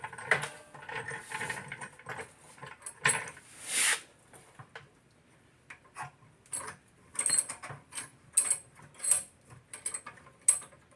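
A VEVOR motorcycle lift cranked up by its supplied hand lever to raise a TW200, giving intermittent mechanical clicks, ratcheting clacks and metallic knocks, close and moderately loud, in irregular bursts with quiet gaps.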